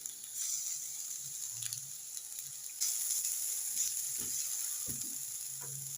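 Garlic sizzles in a pan of hot oil with onions, giving a soft, steady frying hiss with faint stirring clatters and scrapes near the end.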